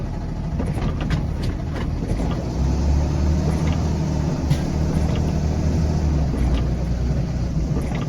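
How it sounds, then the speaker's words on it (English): Several trucks roll into a pickup location in the rain, giving a continuous low, rumbling engine drone that swells slightly midway, with steady rain and wind noise over it. "Got a few trucks trying to enter right now."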